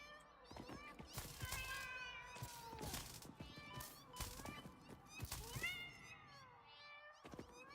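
Many cats meowing in a factory-building video game, overlapping high, wavering cries repeating constantly, close and loud, with light thumping game sounds mixed in.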